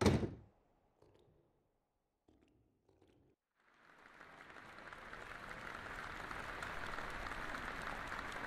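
Crowd applause from the video game Detention starts after a few quiet seconds with faint knocks, then swells into a steady, dense wash of clapping that builds and holds to the end.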